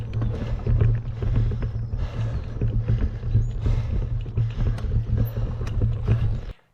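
Heavy, rapid panting from a cyclist at the top of a very steep hill, loud and close breaths repeating in a fast rhythm over rushing wind noise, cutting off at the end.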